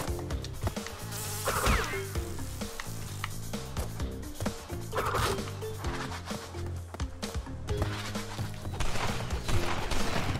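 Bees buzz through a Crash Bandicoot 2: Cortex Strikes Back level, a steady insect drone heard over busy game music and sound effects, fairly loud throughout.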